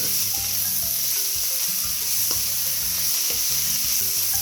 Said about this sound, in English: you only need 1 or 2 minutes to fry them